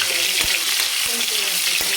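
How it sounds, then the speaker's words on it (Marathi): Ginger garlic paste frying in very hot oil in a kadai, a steady, dense sizzle with occasional soft stirring knocks throughout, close and fairly loud. "तेल छान कडकडीत गरम झालं की लगेच आपण याच्यामध्ये 1 चमचा अद्रक लसणाचं पेस्ट टाकणार आहे."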